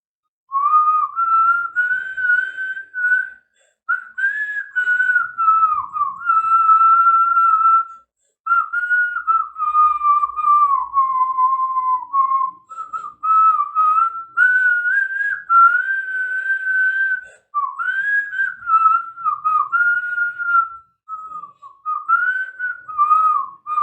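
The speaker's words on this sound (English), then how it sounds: "Yes, of course, I can whistle." A person whistles a wandering melody solo, in long phrases separated by short pauses, clear and fairly loud.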